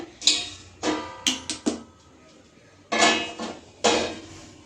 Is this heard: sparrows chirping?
no